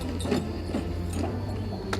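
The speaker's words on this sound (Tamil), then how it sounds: "அந்த சேடல் அது ஏறி இறங்கும்ல குதிரை ஓடும்போது அந்த சவுண்ட் மட்டும்." Layered creaks of a leather horse saddle flexing as a rider moves with a running horse, soft rubbing squeaks repeating over a dense low rumbling bed, built as a sound effect layer.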